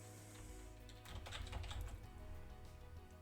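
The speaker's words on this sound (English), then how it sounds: "I can type in their name" Quiet computer keyboard typing, a short flurry of soft key taps in the middle, close and faint against a low background hum.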